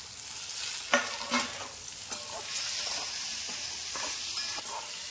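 Vegetables and chopped tomato stir-fry in a pan with a continuous close sizzle, broken by a few scraping strokes of a spatula and no talking.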